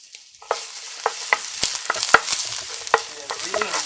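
Onions frying in olive oil, a steady close sizzle broken by sharp clacks of a utensil against the pan, starting after a short quiet moment.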